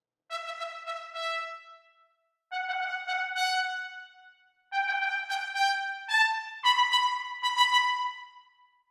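Three short trumpet phrases of quick detached notes, each separated by a brief pause, with the final notes played with a portato patch, held a little longer and rising in pitch.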